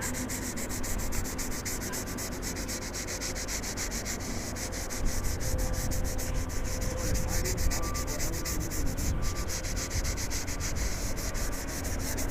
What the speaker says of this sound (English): it is the grit 600, so it is very fine sandpaper